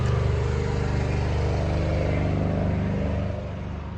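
A truck engine revs loudly and steadily close by, a constant throaty roar that eases slightly toward the end.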